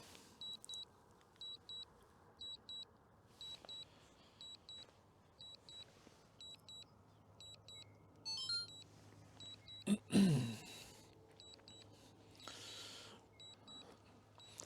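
Faint paired electronic beeps from an Autel EVO 2 drone returning home repeat at a steady rhythm throughout, with a brief louder rustle midway under a quiet background hum.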